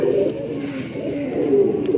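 Ferozpuri pigeon cooing close by, a soft low continuous burble with rising and falling coo phrases over about two seconds, no voices.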